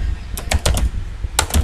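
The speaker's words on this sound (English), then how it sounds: "Now type here" Computer keyboard keys tapped during an e-commerce site login, a loose irregular burst of clicks followed by a pause and a second short flurry, close and fairly clear over faint room noise.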